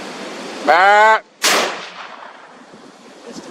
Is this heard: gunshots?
yes